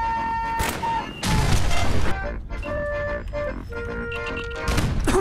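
Gunfire from Fallout 4 rattles in loud, close bursts and bangs, with crashing impacts between shots and game sounds underneath.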